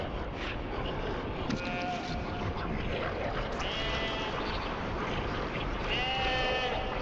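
An evil black sheep in the horror video game Daemonologie bleats several times in short calls over a dense, noisy game ambience, moderately loud and close.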